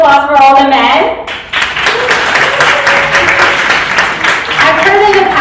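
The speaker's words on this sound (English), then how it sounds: "I want a round of applause for all the men." Loud, sustained applause from a live audience at a Persian Women in Tech gathering, breaking in after a spoken line and continuing steadily with voices audible at the start and end.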